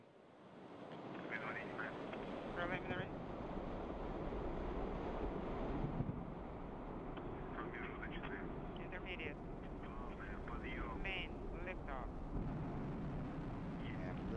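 A Soyuz rocket carrying a three-person crew toward the International Space Station ignites and lifts off, producing a broad, steady, wind-like roar that swells and holds for over ten seconds, with faint voices audible beneath it.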